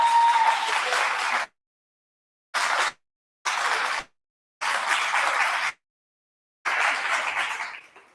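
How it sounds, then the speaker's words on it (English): An audience at a business workshop applauds in several separate bursts of clapping broken by abrupt silences, moderately loud and with no talk over it. "Give a round of applause."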